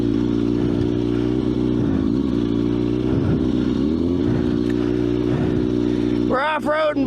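Motorcycle engine idling and revving steadily while riding off-road over rocks after a crash, a continuous close drone with small surges, ending in a brief rising rev.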